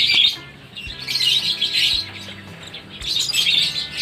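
Several caged lovebirds chirp and squawk continuously at close range, a busy overlapping chatter of high calls with brief louder bursts at the start and end, no talking.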